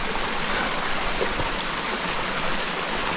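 A mountain stream on a Knuckles range nature trail rushes steadily and close by, a dense even wash of flowing water with no voices over it.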